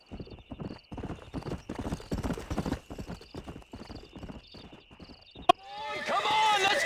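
Horses in the Red Dead Redemption video game: rhythmic hoof clip-clop runs under steady talking for several seconds, then a loud, close whinny with a rising, wavering neigh ends the stretch.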